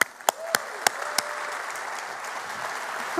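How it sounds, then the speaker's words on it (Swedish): A Falkenberg audience gives speaker Troedsson warm applause: a few sharp opening claps, then a steady, even wash of clapping that holds at moderate loudness for a few seconds without speech. "Troedsson en varm applåd?"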